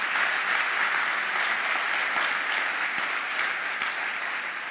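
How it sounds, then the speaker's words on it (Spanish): Loud, sustained congregational applause during a church sermon, a dense wash of clapping from a large crowd that holds steady throughout. "dele un aplauso fuerte al Señor"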